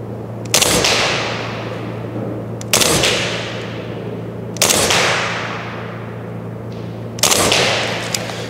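A KWA Elite Force 416A4 gas blowback airsoft rifle fires four single shots several seconds apart, each a sharp loud crack with a clattering bolt cycle and a short decaying tail, over a steady low hum.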